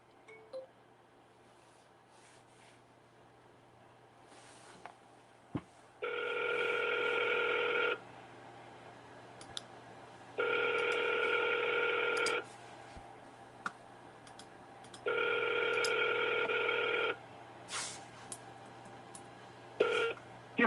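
An outgoing telephone call rings in three long, even ringback tones, each about two seconds with gaps between, preceded by faint clicks and followed by a few soft clicks, heard alone with no talking.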